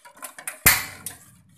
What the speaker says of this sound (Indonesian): Selama menunggu mendidih itu, kita mengaduk terus tanpa berhenti